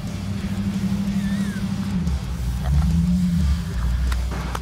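A 1941 Buick being driven out at a custom car shop, its engine rumbling low and close with a brief rise in revs, a steady idle under the background.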